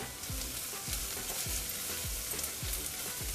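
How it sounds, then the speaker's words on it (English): Spices such as turmeric, garam masala, cumin and coriander powder hit frying onions with a loud continuous sizzle, punctuated by rhythmic scraping stirs. "So then we're going to add all the spices in there first."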